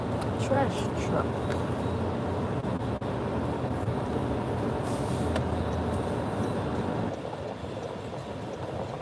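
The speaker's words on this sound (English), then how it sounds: "Trash truck." A garbage truck passes on a street during a ride along, heard as a loud, continuous low rumble of engine and road noise that holds steady for several seconds before easing off slightly toward the end.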